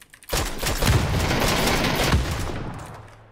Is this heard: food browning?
no